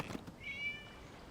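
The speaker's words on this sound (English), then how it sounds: "It was just a cat." A cat in the game Genshin Impact gives a single short, faint meow that rises and holds briefly, heard alone against a quiet background.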